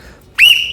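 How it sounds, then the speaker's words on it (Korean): A handheld whistle gives one short, shrill blast close by, starting abruptly and holding a bright, piercing tone with no other sound. "바로 이 호루라기입니다."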